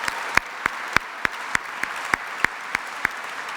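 Sparse, evenly spaced claps ring out at a steady slow rhythm, roughly three per second, as an audience applauds 2019 Chicago Business Hall of Fame inductees; the sound is faint and distant with no talking over it.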